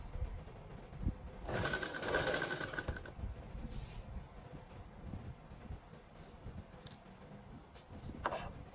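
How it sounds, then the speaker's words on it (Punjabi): A sewing machine stitches cloth along a garment neckline in a brief, rapid mechanical whir of about a second and a half, followed by quieter handling sounds of fabric. "ਨਾਲ ਨਾਲ ਆਪਾਂ ਲੀਡ ਦੇ ਉੱਪਰ ਉੱਪਰ ਨਾਲ ਨਾਲ ਸਲਾਈ ਲਾ ਲੈਣੀ ਹੈ"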